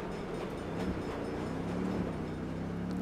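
A train rolling past in the video game Saints Row, a low continuous rumble and rattle of wagons that stays steady and fairly quiet throughout.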